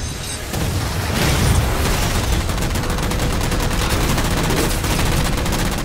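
Rockets fire in the Halo 4 shooter game, a loud, dense run of blasts and booms that rises quickly and keeps going without a break for several seconds, with no speech.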